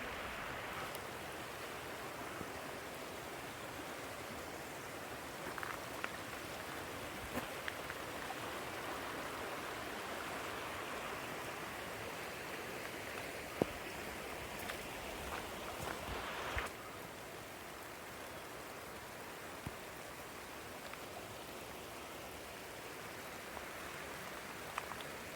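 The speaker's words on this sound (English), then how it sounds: "It is raining something fierce now, though." Heavy rain pouring down in the woods near the ice caves, a steady dense hiss with scattered louder drips and patters, close and continuous with no voices.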